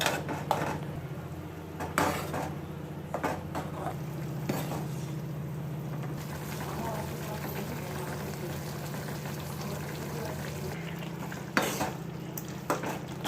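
Tomato kaaram stirred and fried in a pan of tempering, a steady low sizzle with scraping spoon strokes against the pan and occasional sharper clinks, continuous throughout with no talking.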